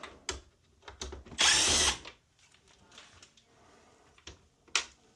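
A cordless power drill whirs in one sustained burst while backing screws out of a mini split air conditioner, followed by sparse clicks and light handling of the unit's plastic cover.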